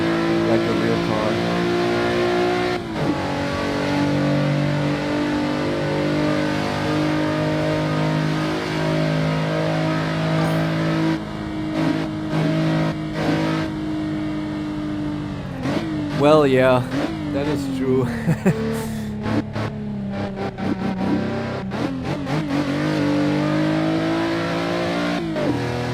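A race car engine in Assetto Corsa drones steadily while driving on a track, its pitch rising and falling through revs and gear shifts, with someone talking over it.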